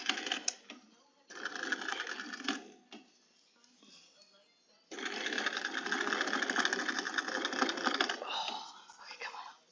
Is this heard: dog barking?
no